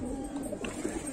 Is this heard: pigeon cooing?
yes